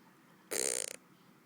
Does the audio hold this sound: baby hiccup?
yes